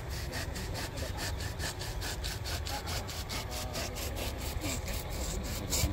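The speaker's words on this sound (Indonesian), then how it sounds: "Ya ini gergaji luar biasa." A hand saw cuts through wood in fast, even back-and-forth strokes, close and loud, with a steady rasping rhythm throughout.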